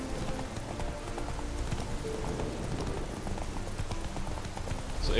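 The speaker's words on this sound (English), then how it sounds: "I keep him behind my horse ass here for a little bit" Galloping horse hooves from The Witcher 3 video game, a steady fast clip-clop rhythm running continuously and close, mixed with in-game ambience.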